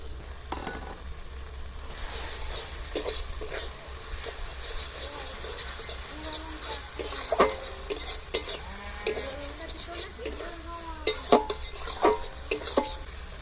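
Onions frying in a pan as ginger, garlic, chili and cumin paste is added, with steady sizzling and repeated clinks and scrapes of a stirring spoon against the pot, growing busier toward the end, with no talk.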